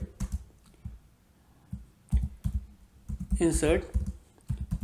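Typing on a computer keyboard while entering a MySQL insert command, a few quick clusters of clicking keystrokes scattered between a man's speech in Hindi.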